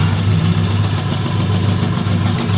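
Electric pottery wheel motor spinning at full speed while throwing a large lump of clay, a loud steady low hum with a continuous droning tone, no voices.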